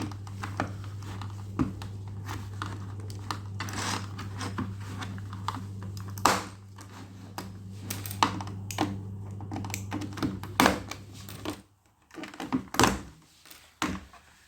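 Plastic keycaps being pried off a Logitech MK320 keyboard, a run of sharp clicks and snaps at irregular intervals over a steady low hum that stops near the end, followed by a few final pops.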